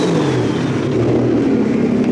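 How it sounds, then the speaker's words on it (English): A turbocharged M43-engined BMW 3 Series on a skid pan drones close and loud with steady engine noise. The pitch sags slightly, and no voices are heard. "that was just my car driving out to drift without me"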